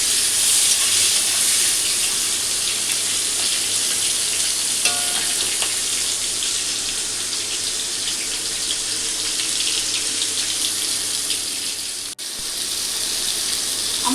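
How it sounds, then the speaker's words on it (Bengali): A large tomato fries in a pan of oil for a mutton curry, giving a steady, loud hiss that runs unbroken throughout, close by, with no talking. "টমেটোটাকে একটু ভেজে নেব"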